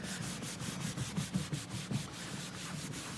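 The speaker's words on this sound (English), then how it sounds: "Let's just give that a buff over with a dry cloth." A dry cloth rubs back and forth across a cleaned wooden surface, producing soft, rhythmic swishing strokes, faint and close with no voices.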